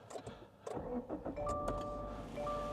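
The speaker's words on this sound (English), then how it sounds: "There's something very Subaru about the way that engine starts." A 10-year-old Subaru's boxer engine cranks and fires up after a few clicks, then settles into a steady idle with a faint whine on top.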